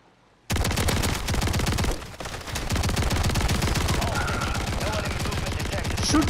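Rapid automatic gunfire in the Warzone shooter game, loud and nearly continuous bursts close up with a brief lull partway through, no talking.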